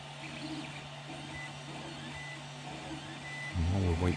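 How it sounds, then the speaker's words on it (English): A 3D printer works through PLA filament with a raft, giving a faint steady hum and soft whirring tones, close but quiet, with a voice starting near the end. "This time I'm printing it with a raft to try and make sure it all holds together."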